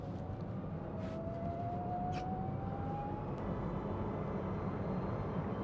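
A Webasto Airtop 2000 diesel heater fitted in a Citroen Ami starting up, a steady low rumbling blower hum with a faint thin whine slowly rising in pitch over the first few seconds.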